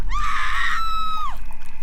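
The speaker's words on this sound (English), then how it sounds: "blood-curdling screams echo from the next cave over" A single piercing, drawn-out human scream echoes from a nearby cave at night near a campsite, rising then trailing off sharply after about a second, loud and close over a low rumbling background.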